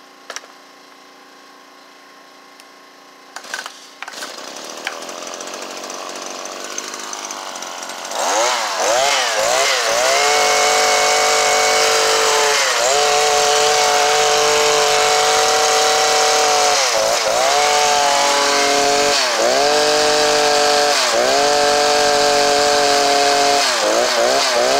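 A Stihl HS81 hedge trimmer's small two-stroke engine pull-started after a few handling clicks, then running loud and close, revving up and down repeatedly between idle and high speed.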